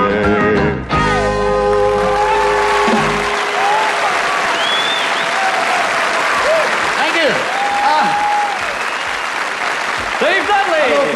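A German TV studio audience at a 1979 broadcast breaks into loud, sustained applause after a sung passage fades, the clapping dense and continuous with scattered cheers and whistles throughout.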